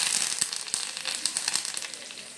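Curry leaves sizzling in hot oil with red-fried garlic and cumin for rasam tempering, a steady close hiss with bright crackling pops, no voices.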